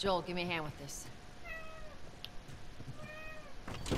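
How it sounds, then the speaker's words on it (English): A real house cat meows several times, short tonal calls near the start and again later, heard faintly under game dialogue and talking while a Last of Us Remastered session plays. "Oh, that was just my cat."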